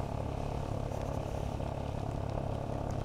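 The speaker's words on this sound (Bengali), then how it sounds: "down shift, engine brake" Motorcycle ridden downhill on a wet, monsoon-season hill road in Bandarban, a steady, close engine drone and rumble that continues unbroken throughout.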